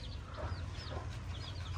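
High, thin peeping calls of young chickens repeat over a steady low rumble, several short chirps scattered through the moment at moderate distance with no talk.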